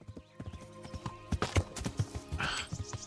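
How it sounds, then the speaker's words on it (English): Horse hooves clip-clop in an irregular rhythm with a brief whinny near the end, from a ridden horse struggling up a hill in the medieval game Kingdom Come: Deliverance, layered over faint game ambience. "Can I not ride my horse up this hill?"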